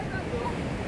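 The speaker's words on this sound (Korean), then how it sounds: "아주 하얀 파도가 벽에 부딪혀서 해안에 부딪혀서 넘실대고 있습니다" Ocean surf crashing against a seawall and shore at Jeongdongjin, Gangneung, on Korea's east coast: a steady, loud roar of breaking water with continuous wind-blown rush and no distinct pauses.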